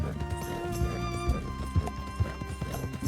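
Horse hooves in the video game Red Dead Redemption 2 clip-clop in a steady, rhythmic gait under sustained in-game music, with no one speaking.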